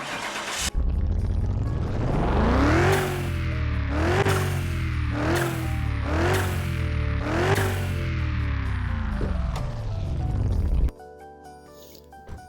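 Twin-turbo V8 engine of a Koenigsegg in the Car Mechanic Simulator 2021 video game, rumbling at idle then revved five times in quick rising-and-falling sweeps before cutting off abruptly, loud and alone.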